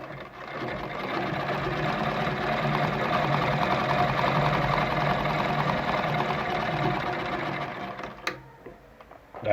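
A heavy-duty Gritzner VZ sewing machine stitches a wide zigzag at maximum width, a loud, steady mechanical whirring and rapid knocking that runs continuously for several seconds, then stops with a few clicks and handling sounds.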